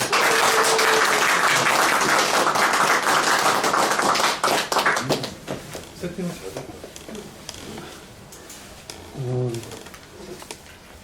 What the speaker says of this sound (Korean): 우리 교수님 박수로 맞이하겠습니다